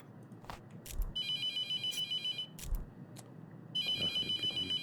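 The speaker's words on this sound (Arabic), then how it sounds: "التليفون ده هكسره ازاي يا جدعان؟" A telephone rings in the horror game The Mortuary Assistant, a bright electronic trill in two long repeated bursts, with scattered clicks and thumps in between.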